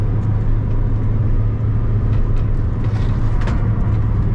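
A car driven flat out around the Nürburgring during a regularity race, heard from inside as a loud, steady engine drone with constant road roar and no pauses, close and dominant throughout.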